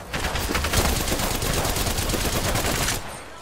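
Rapid automatic gunfire in a video game as a full magazine is emptied, a dense, loud, unbroken burst of shots lasting about three seconds before cutting off.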